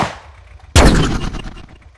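Tank cannon firing in a tank war video game: a single sharp, loud blast that rings out and decays over about a second, with no other sound around it.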